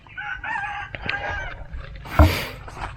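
A rooster crows on a small farm garden, a drawn-out cock-a-doodle-doo rising clearly at mid distance over light outdoor background noise, with a short knock partway through.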